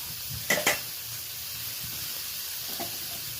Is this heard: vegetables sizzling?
yes